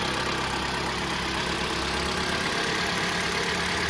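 Close, steady idle of a Mitsubishi ASX engine just fitted with a new timing chain: an unbroken, even mechanical drone with no voices over it.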